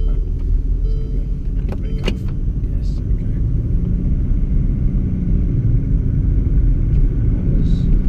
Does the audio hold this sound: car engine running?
yes